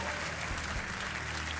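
A game-show studio audience claps in a steady, sustained round of applause that fills the whole moment, heard a little distantly with no talk over it.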